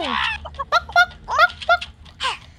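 A flock of geese in an Upin Ipin children's game honks repeatedly in short, nasal bursts, several calls overlapping in an uneven, excited rhythm, close and fairly loud.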